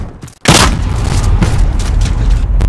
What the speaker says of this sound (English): Cruise missile, go for launch.